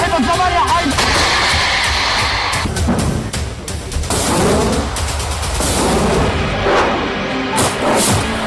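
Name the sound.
missile fire by Hezbollah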